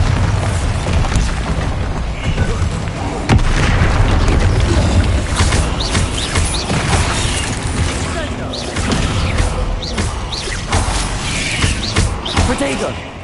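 Magical spell blasts and booming explosions go off in rapid succession during Hogwarts Legacy combat, amid clattering effects and a voice shouting spell names.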